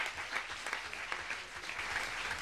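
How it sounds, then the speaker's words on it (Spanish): Audience applause at a journalism research and profession seminar: a steady, dense round of clapping from a room full of people, sustained evenly for a couple of seconds with no talk over it. "Ahora sí, el aplauso, ¿no?"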